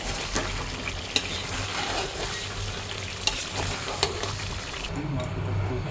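Beef bhuna being stirred in a hot pan, a constant close sizzle broken by a few sharp metallic scrapes and clinks of the spoon against the pan, with no talking.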